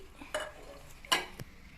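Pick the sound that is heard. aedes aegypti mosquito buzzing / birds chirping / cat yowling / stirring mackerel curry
stirring mackerel curry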